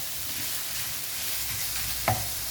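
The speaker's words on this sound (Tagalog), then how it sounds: "Iginigisa ko na po ngayon ang pork." Pork sautés in a pan with garlic, ginger and onion, giving a steady soft sizzle. A sharp clink of a utensil against the pan sounds near the end.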